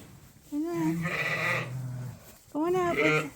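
Ewes and lambs bleating on a farm, loud wavering calls from nearby, with one drawn-out cry followed by another strong bleat, mixed with a low lower-pitched call.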